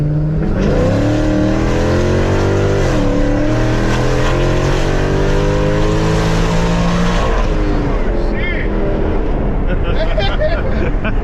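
A Dodge Challenger fitted with a 426 Hemi accelerates hard up close, its loud engine note climbing steadily in pitch through the gears before easing off near the end.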